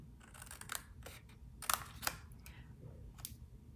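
Scissors cutting paper card for a Halloween treat box, a few crisp snips in an irregular rhythm, close and fairly quiet, with no talking.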